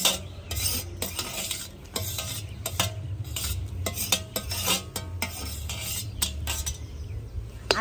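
Grated potato is stirred and sautéed in hot ghee in a kadhai for a fasting dish, with frequent rhythmic spatula scrapes and clacks over a low, steady sizzle and hum close by.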